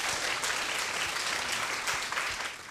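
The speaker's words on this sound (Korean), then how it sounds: "큰 박수로 맞이해 주시기 바랍니다" Steady applause from an indoor lecture audience welcoming a guest speaker, dense, even clapping filling the room for a few seconds before tapering off slightly at the end.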